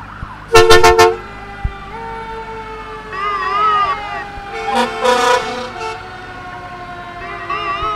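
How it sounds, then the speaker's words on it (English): An ambulance in a town parade gives short blasts of a loud horn, then wavering siren tones rising and falling over a rumbling engine, with brief voices in the background. "John Kennedy driving the ambulance, and now we see an engine."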